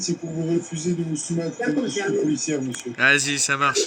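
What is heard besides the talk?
None of the usual background noises is heard.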